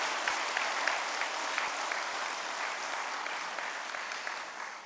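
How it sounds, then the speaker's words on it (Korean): Congregation applauding at a Methodist church thanksgiving service for the installation of a new board chair and director, a steady, dense clapping that holds evenly throughout with no talk over it. "이분들을 위해서 박수해 주시기 부탁드리겠습니다"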